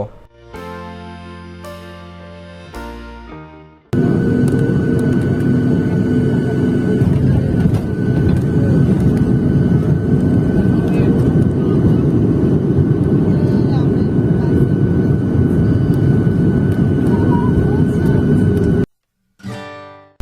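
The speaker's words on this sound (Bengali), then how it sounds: "আমরা এখন ঢাকার হজরত শাহজালাল আন্তর্জাতিক বিমানবন্দরে ল্যান্ডিং করব" Inside a Biman Bangladesh airliner landing at Hazrat Shahjalal International Airport in Dhaka on a flight from Cox's Bazar, a loud, steady cabin roar runs for about fifteen seconds, with short bursts of music before and after it.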